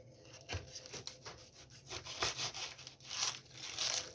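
A knife slices a still-warm baked crumble pie into pieces, giving soft scraping and crunchy cutting strokes in repeated short bursts, close and moderately quiet.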